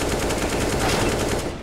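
Loud, dense automatic gunfire rattles nonstop in CS:GO on the Anubis map, rapid shots blurring into one continuous close burst.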